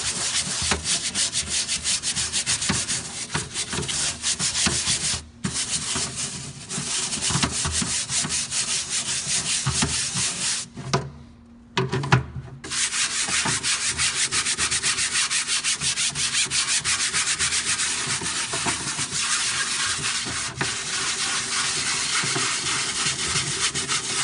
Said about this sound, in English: take a scrub brush, not too stiff